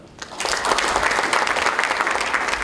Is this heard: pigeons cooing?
no